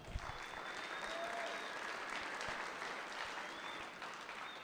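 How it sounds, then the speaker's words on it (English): An audience at an auctioneer contest during the Iowa Beef Expo claps steadily, a moderate, even round of applause heard from a distance, lasting several seconds without a break. "Give him a round of applause."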